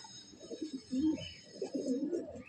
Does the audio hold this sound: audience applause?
no